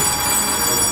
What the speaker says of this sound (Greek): Μισό κάποιος με παίρνει τηλέφωνο.